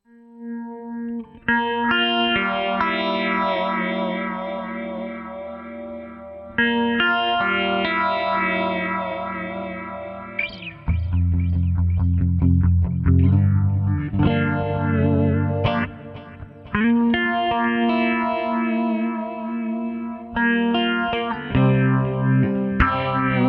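Electric guitar lick played on the neck pickup with a warm, rounded tone, heavily colored by distortion and chorus effects, played alone in sustained, flowing phrases.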